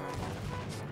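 A zombie fires a shotgun in Minecraft: one dense, loud blast fills the whole moment with a harsh roar, close up and with no clear voice over it.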